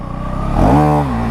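A new 2025 KTM Duke motorcycle engine revs up hard for a wheelie, a loud close rising roar that swells and then settles into a steady high drone.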